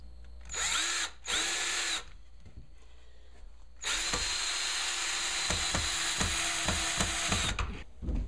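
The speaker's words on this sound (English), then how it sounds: "drill straight through." A power drill whirs loudly in two short bursts, then grinds steadily through wood for several seconds, with faint clicks and knocks in between.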